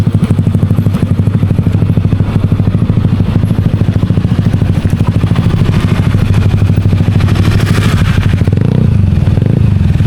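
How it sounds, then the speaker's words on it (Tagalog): A motorcycle engine idles steadily and loudly up close, a rapid chugging pulse that continues throughout with a faint clatter near the end. "Ayun yung motor."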